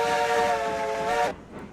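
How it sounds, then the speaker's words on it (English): The Ruby Basin locomotive in RailRoads Online sounds a big steam whistle, one loud steady multi-tone blast held over a second before cutting off sharply, with little track or engine noise behind it. "Ruby Basin just has a great big whistle, not a lot of track noise or loco noise coming off it"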